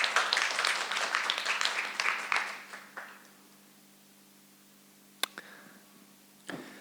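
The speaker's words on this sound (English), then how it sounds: "please join me and give a round of applause to welcome our guest speaker" Brief applause from an audience welcoming a guest speaker at a book fair session, starting moderately loud and tapering off within about three seconds, followed by near silence and a couple of isolated clicks.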